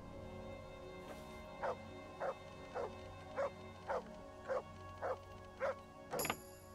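Dog in Kingdom Come: Deliverance, a scent hound trained to find the wounded, barking nine times in a steady rhythm, single woofs about half a second apart, moderately close over quiet ambience, ending with a brief sharp clatter.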